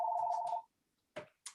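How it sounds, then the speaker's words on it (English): A phone rings once with a steady electronic tone that cuts off, followed by two short faint clicks in otherwise quiet room sound. "The only time my phone rings is"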